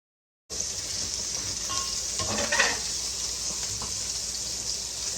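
Salmon fillet, skin side up, sizzles steadily in a hot pan, with a brief scrape or stir of a utensil partway through and no talking.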